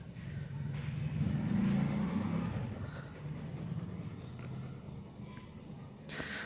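A pencil shades tones on paper in close, scratchy back-and-forth strokes that run steadily and fade a little toward the end.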